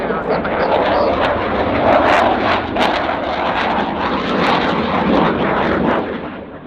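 Dassault Rafale fighter jet roaring through a flying display at an airshow, a loud, continuous broadband engine rumble that swells and holds steady throughout, with a voice talking over it.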